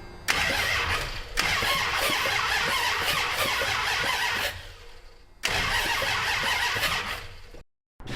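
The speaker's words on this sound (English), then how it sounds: "Got starter action now, which that starter sounded terrible" A 1989 Dodge truck fitted with a 440 engine swap cranks on its starter in two long loud bursts with a pause between, a harsh rough whirring right up close, then a short silence.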